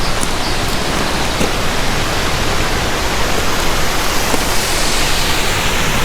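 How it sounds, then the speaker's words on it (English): Steady, dense rush of a waterfall at Potholes Coulee, Ancient Lakes, loud and close, a constant roar with no pauses and no voices. "Here's the waterfall."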